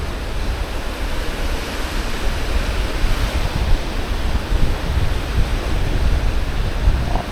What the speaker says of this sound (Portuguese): Ventando